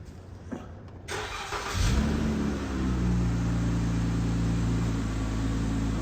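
A 2015 Dodge Grand Caravan engine with a misfiring cylinder cranks briefly, catches and starts, then settles into a steady idle hum, close by with no talking.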